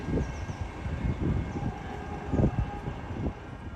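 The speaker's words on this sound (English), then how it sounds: "Attention, train 135 approaching." A Caltrain commuter train approaches Menlo Park station with a low rumbling rolling noise and faint tonal whine, moderately loud and steady over a few seconds, with no voices.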